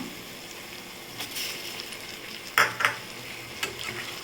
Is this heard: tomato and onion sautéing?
yes